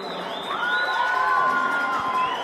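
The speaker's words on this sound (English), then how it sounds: "Ian Davies coming out to a round of applause" A crowd at a high school hockey state championship cheers and whoops loudly as a player comes out, high shouts and whistles rising over a dense roar.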